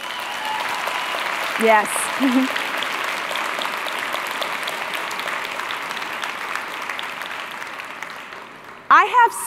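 Sustained audience applause in a conference hall, fairly loud and steady for several seconds with a few voices calling out briefly before it dies away.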